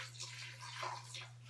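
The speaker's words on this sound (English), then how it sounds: "I'm just gonna put a little bit of water in there" A little water pours into a bowl of soaked cashews, giving a short, soft splashing trickle over a steady low hum.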